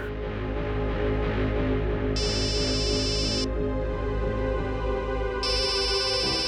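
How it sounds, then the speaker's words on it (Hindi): A mobile phone ringtone plays in two bright, repeating bursts over a steady droning music bed in a scene from the crime drama CID, fairly quiet with no talk. "दया का फोन?"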